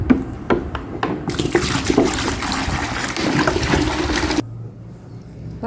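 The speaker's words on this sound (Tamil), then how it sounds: "அஞ்சு லிட்டருக்கு நான் தண்ணியை ஊற்றிக்கிறேன்" Water is poured into a container, five litres in all, with a loud rushing gush that swells after a few light knocks and then cuts off, leaving a quieter trickle.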